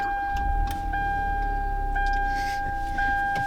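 A Hyundai Veloster Turbo's push-button start brings the engine up to a steady low rumble, accompanied by repeated electronic chime tones sounding about once per second.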